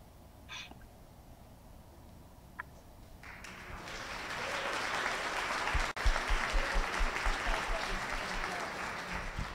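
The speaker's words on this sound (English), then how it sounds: "Fred, you're getting an applause." An audience at an evening literary event breaks into applause that swells after a few quiet seconds into sustained, dense clapping, moderately loud, with faint voices beneath it early on.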